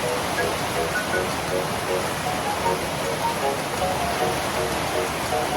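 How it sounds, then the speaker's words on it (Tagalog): Heavy rain pours steadily as a dense, even hiss with scattered drops pattering on a nearby surface, continuous throughout and fairly loud. "Malakas po ulan dito"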